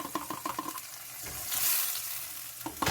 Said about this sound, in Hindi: ये देखिए हल्का सा इनको मैंने सौते किया है और साथ ही मैं अपनी ये जो प्याज है इसमें ऐड कर रही हूँ